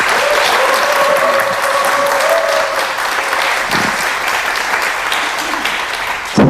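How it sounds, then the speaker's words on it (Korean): An audience applauds an author at a book talk held at the Swiss Embassy in Korea, sustained close clapping from a crowd lasting several seconds before thinning at the end. "우리 윤 작가님에게 박수 한 번 더 부탁드릴게요"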